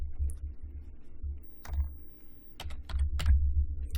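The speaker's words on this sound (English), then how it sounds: "So I'm going to just type in audit." Keys clatter on a computer keyboard in short bursts and single taps, close and moderately loud over a steady low hum, with a quick cluster of strokes toward the end.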